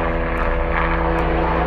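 Loud, steady droning of a propeller airplane passing overhead, a constant engine hum with no voices.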